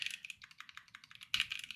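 Fingers type quickly on a computer keyboard, a rapid run of crisp, close clicks with a brief louder flurry near the end. No voice is heard.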